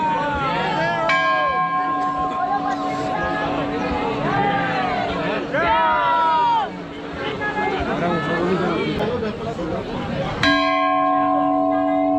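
Temple bell ringing at Badrinath temple amid a dense pilgrim crowd, repeated metallic strikes with long sustained ringing tones, loud and close, over constant crowd chatter and babble.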